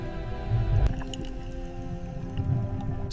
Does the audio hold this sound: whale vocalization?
yes